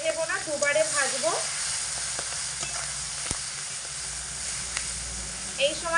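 Prawns coated in salt and turmeric hit hot oil in a pan, producing a dense, steady hiss of frying with occasional clicks; a voice is heard briefly at the start and end.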